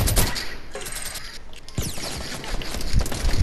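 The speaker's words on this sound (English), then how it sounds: "I'm shooting with my gun! Hold on, I don't have too much ammo on my minigun." Rapid automatic gunfire from a minigun in a shooter video game, a dense, loud burst of fire that dips briefly midway and then resumes more heavily, with a brief voice underneath.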